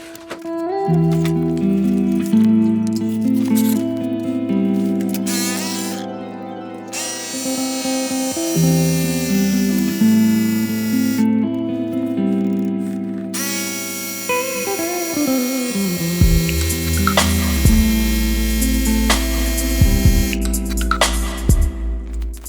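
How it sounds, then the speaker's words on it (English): Electric pump inflating the tires of a Ride1up Core-5 electric bike, a steady buzzing motor drone running close and continuously, with shifting tones and a few brief interruptions. "so first we'll fill up the tires"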